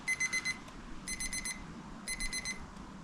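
A meat thermometer alarm beeps for a smoked beef brisket that is done, in three rapid groups of high, shrill beeps about a second apart, close and clear over quiet background hiss.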